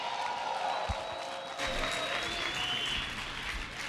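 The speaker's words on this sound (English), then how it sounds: "Let's give him a round of applause." An audience claps steadily at a 1199 union organizing meeting with the New York governor, the applause swelling louder midway and continuing as a sustained wash of hands.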